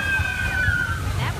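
Water splashes and sloshes from the Splash Mountain log flume ride at Disney World's Magic Kingdom, a continuous rushing wash heard at a distance. Crowd voices and a faint whistle-like tone sit over it.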